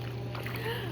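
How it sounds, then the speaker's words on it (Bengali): Small boat approaching on a river in a calm afternoon setting, a steady low motor-like drone holding evenly throughout with faint background noise, no talking. "নৌকা আসছে, একটা ছোট্ট নৌকা"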